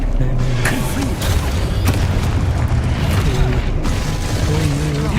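Confringo fire spell blasts in Hogwarts Legacy, booming impacts punctuating a busy, loud game mix with music and mechanical clatter, heard amid nearby talk.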